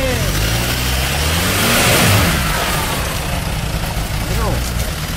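Jeep Wrangler Rubicon engine revs hard while stuck trying to climb a muddy bank, a loud continuous surging roar that swells in the middle, with people talking over it.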